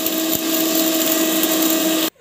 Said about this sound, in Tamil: மிக்சியில் போட்டுட்டு நம்ம வந்து அரைச்சிக்கலாம்.